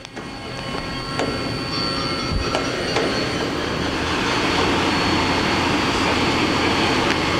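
A Mori Seiki NL-3000Y/1250 CNC lathe spindle runs at 1,000 RPM, producing a steady mechanical hum with a thin high whine and a few faint clicks, no speech.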